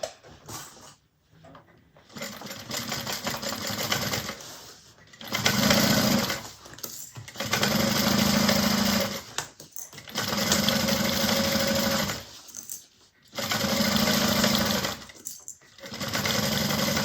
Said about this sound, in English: We're going to sew the lining tops onto the lining main panels at a 1/4 inch